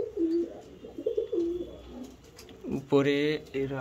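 Pigeons perched at a nest site coo in low, rolling phrases, close and clear, while a person speaks briefly over them.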